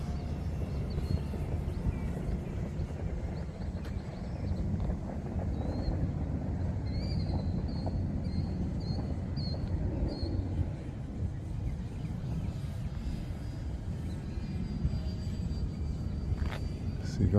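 A repaired model airplane flies with its engine at full throttle, a steady buzzing drone with a faint high whine, heard at a distance through continuous wind rumble on the microphone.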